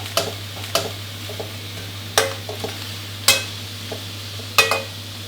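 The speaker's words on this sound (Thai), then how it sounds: "วันนี้กุ้งตัวใหญ่ก็ ใช้เวลาคั่วนานนิดหนึ่งครับ เพื่อให้สุกถึงข้างในนะครับ" Large shrimp dry-roasting in salt in a pan, with a low steady hum beneath and a handful of sharp scraping, rattling strokes spaced a second or so apart as they are turned.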